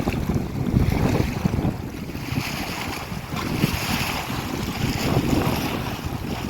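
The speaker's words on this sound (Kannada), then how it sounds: "ನೀರಿನ ಸದ್ದು ನಿಮಗೆ ಕೇಳಿಸ್ತಾ ಇದೆ ಅಂತ ಅನ್ಕೊತೀನಿ" Water rushing at Markonahalli dam near Kunigal, Tumkur, a steady broadband roar with gusty wind buffeting the microphone, continuous and fairly loud throughout with no talk.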